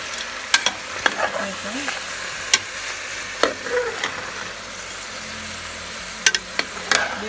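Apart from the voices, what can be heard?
stirring vegetables frying in a pot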